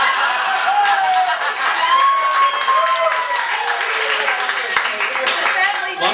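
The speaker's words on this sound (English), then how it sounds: "I think the applause is probably testament to that" Wedding guests applaud and cheer during a reception speech, with a dense wash of clapping mixed with voices and crowd noise that lasts throughout.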